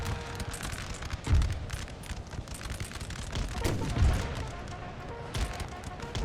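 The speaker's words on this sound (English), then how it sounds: "that cannon shot didn't reach" Cannon fire rumbles through a Napoleon: Total War siege battle, with two heavy low booms standing out over a dense, continuous din of battle noise and scattered distant musketry.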